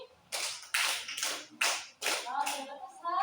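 A classroom of students claps for group 1 in five distinct, evenly spaced rounds of applause, fairly close, with a few voices at the end.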